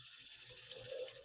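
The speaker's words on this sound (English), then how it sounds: "she put a little water in the jar to mix around and just get every bit" Water from a tap runs into a sauce jar to rinse out the last of the sauce, a soft, steady splashing trickle that swells slightly near the end of the short clip, with no talking.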